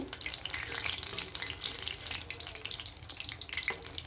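Beguni, batter-coated aubergine slices, frying in hot oil, giving a steady close bubbling sizzle that runs unbroken throughout with no talking.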